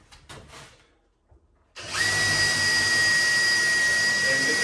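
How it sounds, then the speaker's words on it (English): A few soft knocks and shuffles, then a power drill pre-drilling a kitchen cabinet frame spins up and runs steadily at a high whine, loud and close. "Pre-drill these. You don't go all the way through."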